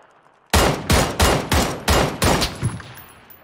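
Rapid burst of video game gunfire, about six loud close shots in quick succession, the last ones tapering off, with no voices over it.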